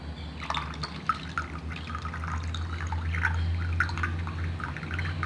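Water trickles and drips as a hand is lowered into a full container during an Archimedes' principle demonstration, with soft, irregular splashes and spills running steadily for several seconds under a low background hum.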